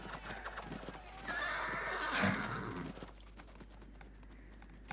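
A horse whinnies loudly in a video game, its call swelling in the middle while hooves clop along underneath, then fading to quieter background game sounds.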